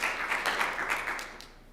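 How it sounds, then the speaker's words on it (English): A modest round of applause at a senior citizens community meeting, rhythmic clapping from a small group in a room, steady and fairly close before fading slightly at the end, with no voices heard. "I'd like to give them a round of applause"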